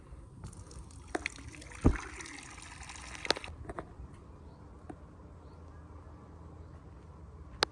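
Water runs from a tap as a steady, close broadband hiss for about three seconds, then falls away to a quieter background with a few sharp clicks and knocks.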